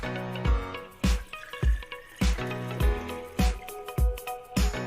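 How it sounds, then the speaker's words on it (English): Water is poured into the reservoir tank of a budget espresso coffee maker, heard as repeated gurgling glugs and splashes in a steady rhythm, close and fairly loud, with no talking. "twist off the cap for the water reservoir and pour the water into the tank."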